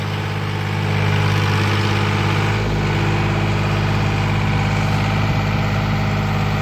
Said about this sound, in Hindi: लाला गांव में पहला ट्रैक्टर DI-50 सोनाली का कंपनी VT ट्रैक्टर चल रहा है